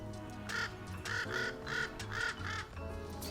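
A crow calls repeatedly in a workshop setting, giving a steady series of about six evenly spaced caws, fairly faint against a low background hum, with no one speaking.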